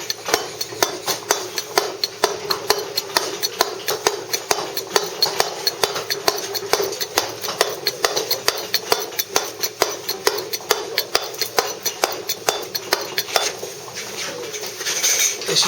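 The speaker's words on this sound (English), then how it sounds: "This is the last layer that I'm going to do with the claw." A claw chisel struck steadily with a mallet as it dresses a Bath stone moulding, a rapid, even train of close, sharp taps running throughout, with faint birdsong in the background.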